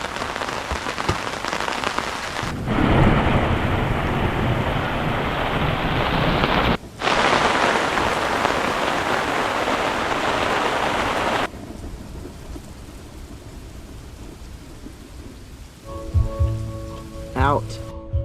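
Heavy rain pours down loudly and steadily for about eleven seconds, with one brief dip midway. It then eases abruptly to a softer, quieter patter, and a few faint other sounds come at the end.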